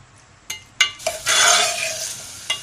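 A few clinks of a utensil against a pan, then a steady sizzle of chicken frying with ginger garlic paste, with stirring scrapes and another tap near the end.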